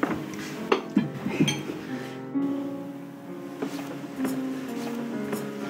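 Glasses clink together in a celebratory toast at a class reunion gathering, a few light, bright taps near the start amid faint room murmur.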